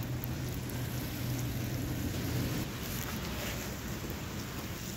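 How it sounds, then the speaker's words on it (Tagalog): Steady rain falls during a snowfall in Tokyo, a constant dense hiss with low traffic-like rumble underneath, no voices over it. "So umuulan pa rin."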